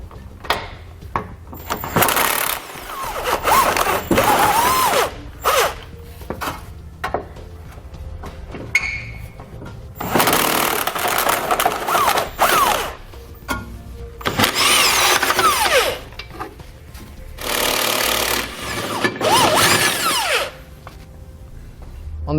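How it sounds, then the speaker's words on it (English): An impact or power tool with an 18mm socket backs out tow hook bolts on a 2009 Nissan Rogue frame, in repeated loud whirring and rattling bursts with brief gaps between them. "So we'll grab an 18mm socket and pull those out."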